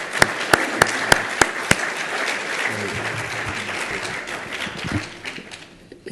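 An audience at a municipal housing-law session opens with a few sharp, evenly spaced single claps, then breaks into full applause that carries steadily and thins out near the end.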